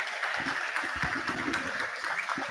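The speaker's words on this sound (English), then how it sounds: "And a round of applause" A crowd at a semi-final sports carnival match applauds an injured player being helped off court, steady clapping filling the space, loud and continuous throughout.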